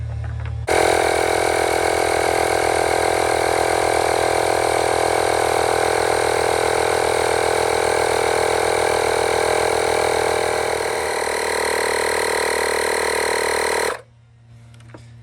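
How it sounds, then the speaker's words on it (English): A Makita air pump inflates a truck's airbag suspension through a Schrader valve toward 50 PSI, a loud steady motorized drone with a dense buzzing hum running unbroken for about thirteen seconds before cutting off abruptly. "let's bring it up to about maybe 50 PSI and see what happens"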